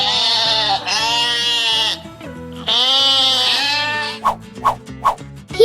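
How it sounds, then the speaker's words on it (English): Sheep bleating in a farm animal quiz, several long wavering baa calls close and loud, followed by a few short clipped bleats at the end. "I am a sheep."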